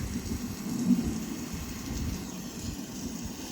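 Soft, steady rainfall hiss with low rumbling underneath, a quiet, even ambience with no voices.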